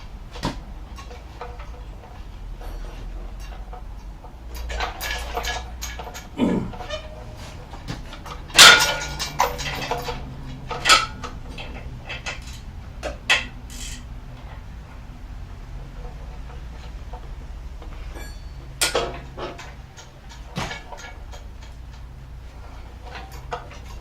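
A wrench works an engine bolt loose on a Ford Festiva with an automatic transmission during an engine reseal, giving scattered metallic clicks and knocks, a sharp crack near the middle, and a low background rumble.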